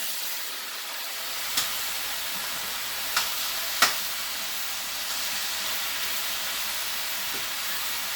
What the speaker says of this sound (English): I'm adding the cucumbers.